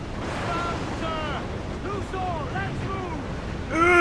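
Wind and crashing waves around waterspouts at sea in Assassin's Creed Black Flag, a steady roaring wash that swells louder at the end, with a person talking over it throughout.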